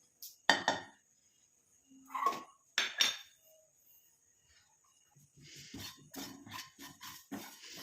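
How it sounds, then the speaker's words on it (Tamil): Ingredients go into a hot iron kadai with a few sharp metallic clanks and clatters, then a steadier run of scraping, rustling frying noise near at hand, with no talking. "இப்போ நம்ம இந்த இரும்பு கடாய் நல்லா ஹீட் ஆனதுக்கப்புறமேட்டு நம்ம எடுத்து வச்சுருக்க இந்த மூணு மூணு பொருளையும் நம்ம ஆட் பண்ணிக்கலாம்"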